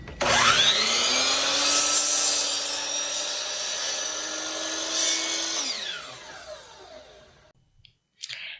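A power sander works old fence boards, a steady loud whining drone lasting several seconds that slows and winds down near the end, followed by a brief clatter.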